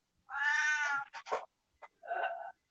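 A house cat gives a long, loud, close meow, then a few short chirps and clicks, then a second, shorter meow.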